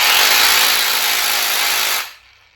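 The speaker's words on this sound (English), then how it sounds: "this here is a jigsaw that we can cut wood or metal" A jigsaw that cuts wood or metal, running with its blade moving up and down: a loud, close, steady buzzing whir that cuts off near the end, no talk.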